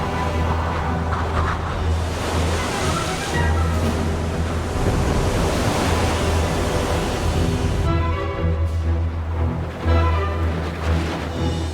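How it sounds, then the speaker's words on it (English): Ocean surf and wind roar steadily, a broad, churning wash of crashing waves with gusty rumble at sea, continuous and loud with no voices. "Huge storms, fed by all this warm, shallow water, produce high winds and enormous waves."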